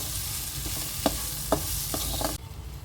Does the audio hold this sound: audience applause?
no